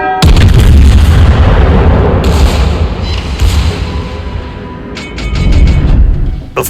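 A German tier 9 battleship firing its turrets in a naval video game, a huge booming salvo with a long rumbling tail, followed by more distant thuds and a further loud rolling blast near the end.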